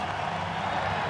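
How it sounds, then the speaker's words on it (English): A stadium crowd at a Tigers–White Sox baseball game, a steady, broad wash of applause and cheering for pitcher Galarraga, sustained and fairly distant. "Galaraga's going to get himself a nice round of applause"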